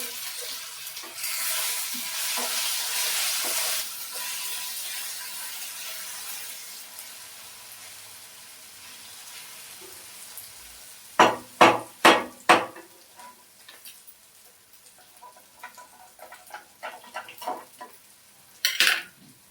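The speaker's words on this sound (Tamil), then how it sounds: "இது வந்து கோவக்காய் வந்து ஃப்ரை ஆயிடுச்சு." Ivy gourd frying with masala in a pan at home, a soft steady sizzle at first, then several sharp clanks of a spoon stirring against the pan, followed by quieter scraping and a final pair of knocks.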